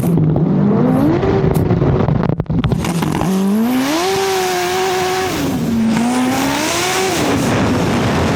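Racing snowmobile sleds launch down a frozen drag track in freezing temperatures, engines screaming loud and close as pitch climbs in rising sweeps, dips, then climbs again; a sharp crack sounds early, with no talk over the roar.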